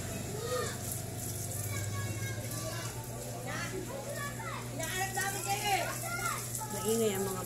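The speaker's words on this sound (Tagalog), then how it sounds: "Maingay ang mga bata." Children play noisily nearby, a steady clamor of overlapping young voices and shouts under a constant low hum.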